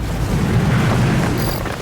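A tremendous wartime explosion of a tank's ammunition store roars as a loud, sustained, deep boom, heavy and rumbling throughout with no voices over it.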